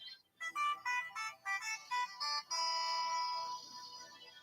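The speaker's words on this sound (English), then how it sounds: "If that's you ringing me," A phone ringtone plays quietly as a series of short melodic electronic tones, then settles into a longer sustained tone, with no talking over it.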